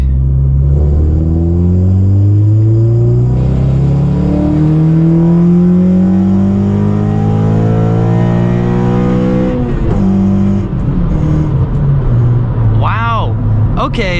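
A tuned ninth-generation Honda Civic Si engine revs hard through its VTEC crossover, the loud close exhaust note climbing and falling in several sweeping pulls, with brief talk near the end.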